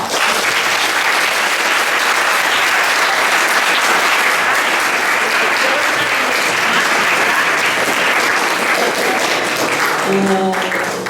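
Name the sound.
audience applause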